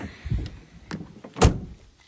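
Dampened tailgate of a 2019 Ford F-150 XLT 4x4 being opened: a few soft mechanical clicks and latch movements followed by one sharper thunk, close by and with no speech.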